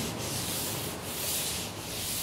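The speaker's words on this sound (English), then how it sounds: "So super fine sandpaper, 1500 grit. But it'll just kind of smooth everything out and make it feel nice." 1500-grit sandpaper is rubbed across a reclaimed wood dining tabletop, making a steady, close, hissing scrape with a gentle back-and-forth swell and no talking.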